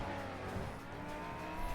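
A car engine hums in the mobile racing game Racing Master, a steady, moderately quiet drone with a slight rise near the end.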